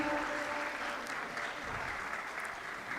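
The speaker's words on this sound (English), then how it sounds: "Let's give a big round of applause for our keynote speaker for today's public lecture" Steady applause from an audience at a public lecture with the German ambassador to Indonesia as keynote speaker, a dense continuous wash of clapping at moderate level lasting throughout with no talk over it.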